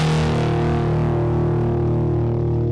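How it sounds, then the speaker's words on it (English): A heavy, distorted guitar chord processed through the Thermal distortion plugin rings out loud and thick, sustaining steadily and dense with buzzing harmonics, with no one talking over it. "For any kind of like major distortion, I'm gonna use Thermal"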